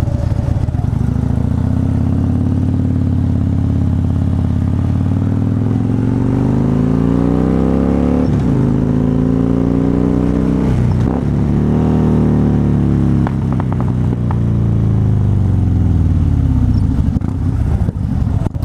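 A 2013 Harley-Davidson Fat Bob (Dyna) motorcycle engine on a ride, a loud, low, continuous rumble that climbs and falls in pitch as the rider accelerates and shifts, heard close up with little talk.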